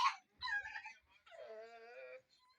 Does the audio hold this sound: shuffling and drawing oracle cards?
no